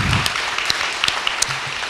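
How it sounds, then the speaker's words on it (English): An audience at a local political question-time event clapping, a soft, moderately distant patter of hands with a few sharper individual claps standing out. "Let's have a round of applause for all three prospective candidates, Marissa, Farah and Matt."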